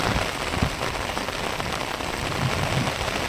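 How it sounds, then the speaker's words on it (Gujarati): Heavy rain pours steadily onto surfaces in a continuous, even hiss with scattered drop impacts on a Gujarat farm, close and unbroken, with no voices heard. "કલાક થઈ ગયો છે, એક ધારો વરસાદ ચાલુ છે"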